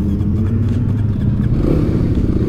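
Kawasaki KLX 300 dirt bike engine running steadily with a low, continuous throttle drone and slight mechanical clatter, loud and close throughout, no speech.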